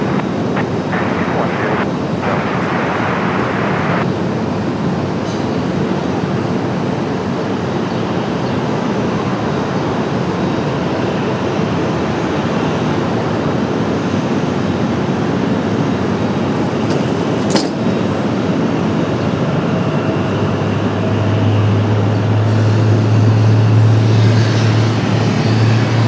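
A jet airliner takes off from runway 23 left at Raleigh-Durham International Airport, making a loud, steady broadband roar that holds for the whole stretch and gains a deeper low rumble toward the end.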